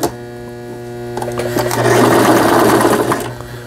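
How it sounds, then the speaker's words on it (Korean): A Brother 1430 sewing machine runs close and loud, a steady mechanical whir with rapid stitching that builds and speeds up, then stops, over a low mains hum. "지금 제 바느질을 하고 있는 영상이 되겠습니다."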